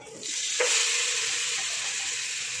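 Mutton pieces dropped into a hot pot with garlic for a spiced mutton curry: a sudden loud sizzle bursts up and holds as a steady hiss close by.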